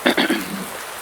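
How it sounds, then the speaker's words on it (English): Steady rain patters across a surface in Farming Simulator 19, a broad hiss that stays even throughout, with a few brief louder splashes at the start. "It's a rainy day here."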